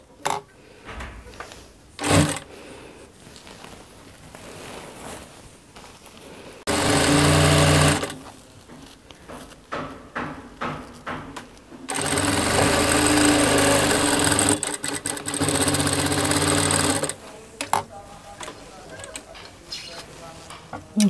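A sewing machine stitches the side seam of a ghagra skirt in two sustained bursts, one short and one long, with quieter handling sounds and a person talking between them.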